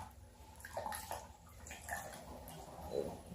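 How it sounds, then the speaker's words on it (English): Water pours out through a hole in the rusted water tank of a HomeRight steam cleaner, a soft, quiet splashing trickle with small drips and gurgles. "when I pour the water, it's just pouring out of the hole"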